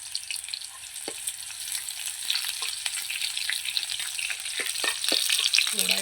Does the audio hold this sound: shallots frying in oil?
yes